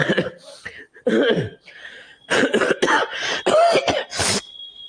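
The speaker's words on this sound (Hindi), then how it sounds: "थोड़ा सा खांसी हो रही है" Several harsh, close coughs in quick bursts, separated by short pauses, with a throat-clearing sound among them.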